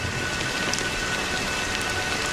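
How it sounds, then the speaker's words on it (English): Steady rain falling in a video game, a dense continuous patter of drops on surfaces, even and unbroken with no voices. "But it's still raining."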